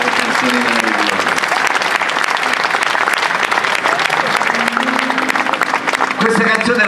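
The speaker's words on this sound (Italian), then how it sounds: "Io gli dedicherei un grande applauso" Loud, sustained applause from a concert audience fills the whole stretch, dense and steady, with faint voices and musical tones showing through the clapping.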